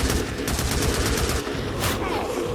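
A big gun firing in the Days Gone zombie-horde game, a dense rapid burst of loud shots blending into continuous fire for a couple of seconds, with a brief dip midway.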